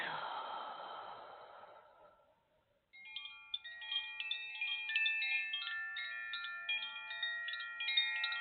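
A slow, deep breath drawn and released in a guided meditation fades out, then soft, sustained chiming tones ring gently on their own.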